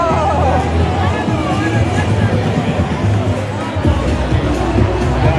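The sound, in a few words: large crowd at the Feast of San Gennaro, NYC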